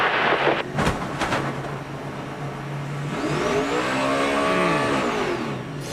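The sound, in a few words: NASCAR race car trying to get going after crash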